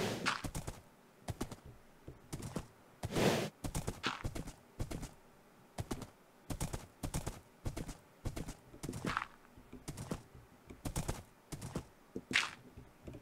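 Steady clip-clop of horse hooves in Minecraft, a regular trotting rhythm running throughout, fairly close and moderately loud with no talking.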